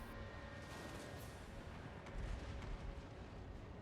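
Gunnery fire rumbles in a real-time strategy video game during a competitive tournament match, a continuous low booming roar of artillery-like blasts swelling slightly midway, distant and dense with no voices.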